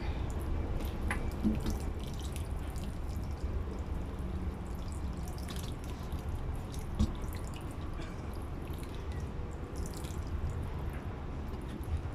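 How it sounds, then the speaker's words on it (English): Water trickles and drips steadily onto soil in a pot of lemon herbs for several seconds, with faint scattered splashes and no talking. "And now we just water this in a little bit."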